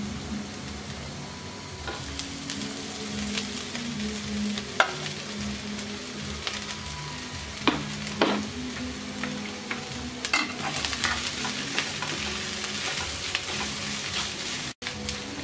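Chicken and mashed potato are stirred into lightly fried onions for chicken cutlets, giving a steady sizzle with scattered spoon scrapes and clicks throughout, close and moderately loud, with no voices.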